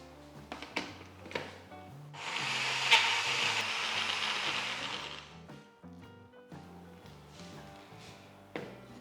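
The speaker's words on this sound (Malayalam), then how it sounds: "ഇത്രയും മിക്സ്ചറോടെ ചെന്ന് ബ്ലെൻഡ് ചെയ്തെടുക്കാം." A blender whirs in a burst for a few seconds, blending oats, banana, brown sugar and salt, a hissing mid-high roar between quieter kitchen clatter.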